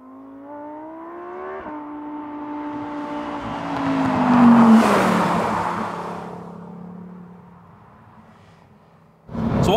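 A Lamborghini Gallardo driving on roads in Scotland, its engine note rising and falling through gear changes with a loud swell of road and wind noise midway, then easing off before a sharp burst near the end.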